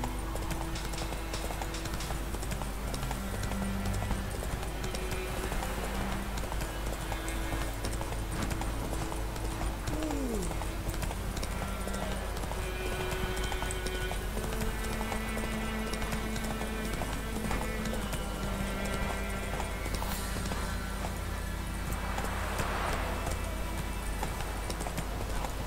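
Roach, the horse in The Witcher 3, gallops steadily for a long stretch, a dense continuous clip-clop of hooves close by under game background sounds, with an occasional faint whinny.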